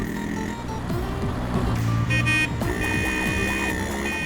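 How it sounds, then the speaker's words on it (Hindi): A car, the principal's, approaches at a 1990s school, its engine and horn-like tonal sounds steady and fairly loud amid a busy mix with music, no speech over it. "अबे गाड़ी आ रही है।"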